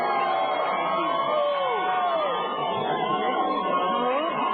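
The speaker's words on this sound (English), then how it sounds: "Folks in the stands here at Cobb Field, give yourselves a round of applause." A baseball crowd at Cobb Field in Billings cheers after a Pioneer League championship game, a broad wash of cheering, whoops and chatter sustained throughout at moderate distance.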